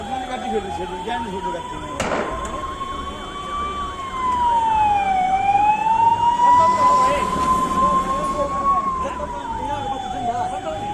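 A fire engine siren wails in a rising and falling tone, loud and sustained over background noise and passing traffic, responding to a car fire in Jind, Haryana.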